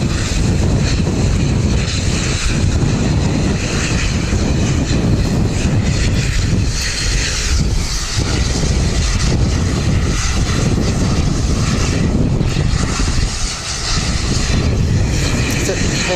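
A small Beechcraft 200 turboprop flies low overhead, a loud continuous propeller drone with wind buffeting on the microphone and people talking over it.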